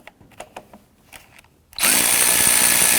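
Cordless power tool loosening the 10mm ground terminal nut on a 2017-2020 Hyundai Elantra 2.0L battery, a loud steady whir that starts abruptly after quiet handling clicks and runs continuously to the end.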